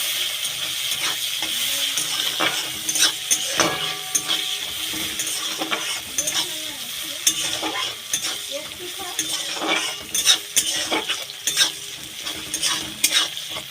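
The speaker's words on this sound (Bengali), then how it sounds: "এবার পেঁয়াজ কুচি দিয়ে দেব। পেঁয়াজটা একটু লাল লাল করে ভেজে নেব।" Chopped onions fry in oil in a pan, a close, steady sizzle and hiss with a spoon repeatedly scraping and stirring against the metal throughout.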